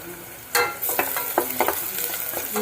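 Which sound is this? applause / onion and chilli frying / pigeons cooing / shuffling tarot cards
onion and chilli frying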